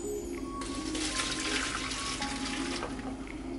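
Boiled cabbage and its cooking water are poured into a colander set in a bowl, giving a steady rushing splash of liquid for a few seconds, close and fairly loud.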